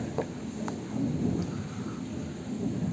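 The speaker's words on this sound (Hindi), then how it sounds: "वर्षा हो रही है, बिजली बहुत कड़क रहा है" Thunder rumbles low and distant through steady rain, a continuous deep roll that swells in the middle, with faint patter on top and no voices.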